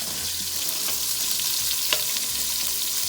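Seasoned meat browning in a really hot pan, a continuous bright sizzle of frying with a faint scrape or stir partway through, close and unbroken.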